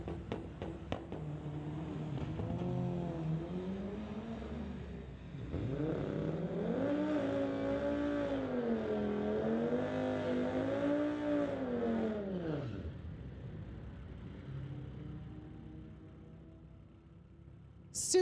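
A 1998 Mitsubishi and a Saturn drag racing at a street-legal strip, with loud engines revving and whining up through the gears, a brief lull, then a long rising roar that fades as the cars pull away.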